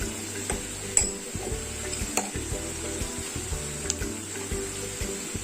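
Garlic paste sizzles steadily in hot oil with browned onions in a pan, a constant crackling fry broken by occasional spoon stirs and light clinks against the pan.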